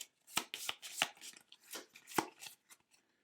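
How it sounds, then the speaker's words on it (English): A board game deck of body part cards is shuffled by hand on a table, with a series of close, irregular card slaps and riffles and short pauses between them, no talking. "place it in the body part deck. Shuffle it up."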